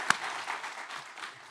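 A church congregation claps together during a worship service. The applause is faint and distant, a soft, continuous patter lasting about a second and a half with a few sharper single claps.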